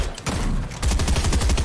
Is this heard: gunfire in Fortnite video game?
yes